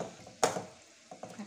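Shankarpali frying gently in oil on a low flame, with a faint bubbling sizzle, one sharp utensil clink and a few soft stirring knocks near the end.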